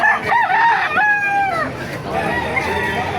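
A rooster crows loudly and nearby, one drawn-out call followed by fainter crowing and farmyard noise.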